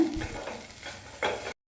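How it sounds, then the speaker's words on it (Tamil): Chilli and coriander powder masala being stirred and sautéed on a low flame for brinjal masala, with soft scraping strokes and a faint sizzle before it cuts off. "மல்லித்தூள் சேர்த்துட்டு அந்த மசாலாவோட பச்சை ஸ்மெல் போக லோ ஃப்ளேமில் வச்சு வதக்கிக்கோங்க"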